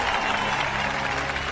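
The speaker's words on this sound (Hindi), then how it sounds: "ताली बजाओ ताली।" A crowd claps and cheers during a movie scene, a dense burst of applause at moderate loudness that holds steady for a brief moment with no break.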